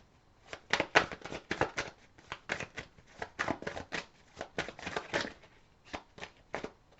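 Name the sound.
tarot cards being shuffled and drawn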